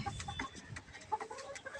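A free-ranging desi hen clucks in short, close bursts among other farmyard poultry, with brief irregular calls scattered over a low background of birds and movement.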